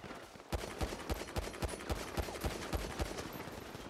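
Pistol gunfire in GTA Online on PC comes as a rapid, steady run of sharp shots, about a dozen in three seconds, close and punchy over a constant background bed.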